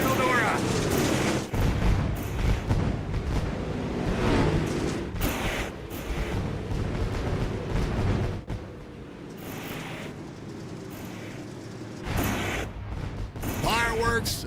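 Loud bursts of fireworks going off at the start of a Dirt Pro Invitational main event at Eldora, with booming blasts spread across the clip under an excited race commentator's voice.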